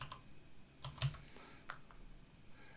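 Quick, light keystrokes on a computer keyboard enter a short macro name in Excel, a handful of crisp clicks in close succession.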